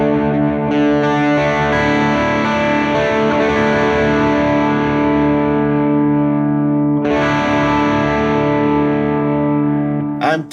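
Electric guitar played through a Duke of Tone overdrive pedal set for crunch into an amp plugin, sustained distorted chords ringing loudly and steadily, with a brief break near the end before fading.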